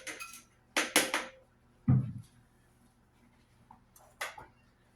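Several clattering kitchen sounds, with a soft thud of pulled pork dropping into a pot among light clinks of utensils against cookware.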